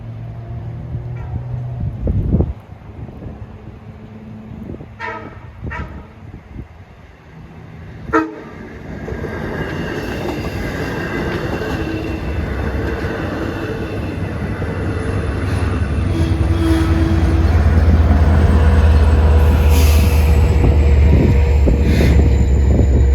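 On the snowy Montauk Branch, a train sounds several short horn blasts early on, then a passing train builds into a loud, steady rumble and rush of wheels that carries on to the end.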